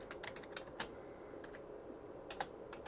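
Clacky key presses on an IBM PC 5150 keyboard, a quick irregular run of separate strikes up close in a quiet room, with no voice.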